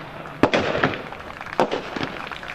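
Gunfire rings out during a police college assault demonstration, with a few sharp, loud reports spaced apart at moderate distance and brief echoing tails.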